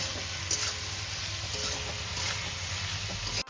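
Water lily stems and potatoes sautéing with spices and salt in a pan, giving a steady, continuous close sizzle with no talk throughout.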